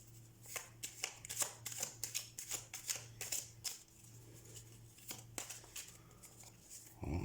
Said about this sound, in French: Encore une carte juste pour la synthèse.